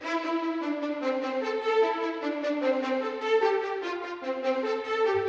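Berlin Strings sampled violins playing staccato, a quick run of short detached bowed notes in a continuous line, clear and up front with no other sounds.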